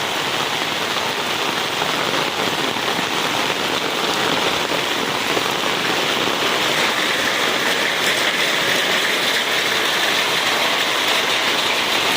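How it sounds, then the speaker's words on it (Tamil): Heavy rain pours steadily onto surfaces during a red-alert storm, a dense, loud, unbroken hiss that fills the whole stretch with no voices. "மழை ஜாஸ்தி பிடிச்சிச்சு"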